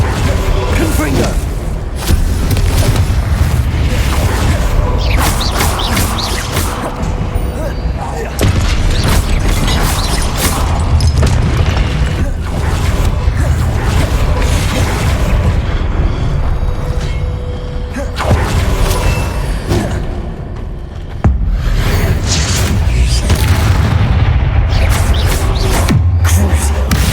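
Confringo fire spells blast again and again during Hogwarts Legacy play, loud booming impacts arriving in dense bursts over constant game noise and mechanical clatter.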